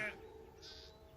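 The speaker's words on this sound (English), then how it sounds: "The noisy sheep were spoiling his peace and quiet." Noisy sheep that have wandered through a broken fence bleat in a couple of short, close calls, one at the start and another shortly after, over a steady low background hum.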